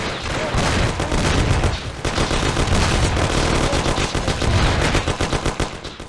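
Sustained machine-gun and rifle fire in a gangland shootout from the video game Mafia: The City of Lost Heaven, loud and dense, with continuous overlapping bursts and rapid repeated shots for several seconds and a brief lull partway through.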